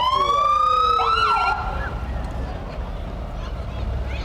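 Loud wailing fire truck sirens in a parade sweep up and down for the first second and a half, then fade into a busy street rumble with faint voices.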